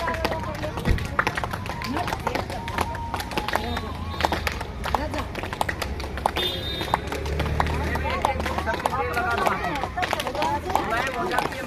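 Rhythmic hand clapping keeps a quick, even beat during a kapalbhati breathing exercise, with a group clapping together and voices talking over it.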